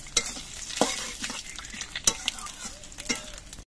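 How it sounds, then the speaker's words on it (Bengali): Whole cumin, bay leaves and dried red chilies frying in oil, a close crackling sizzle with spatula scrapes and light clicks against the pan. "ফোড়নগুলো একটু ভেজে নেব।"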